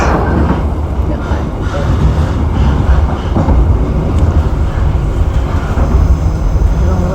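The KA Ranggajati train pulling away from Kertosono station, a loud, steady rumble of rolling wheels and engine noise heard close up, continuous throughout.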